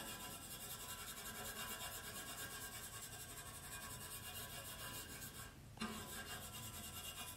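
A tool scraping mill scale off a steel piece soaked in vinegar, a faint continuous rasping rub with one short pause near the end, heard alone without talk.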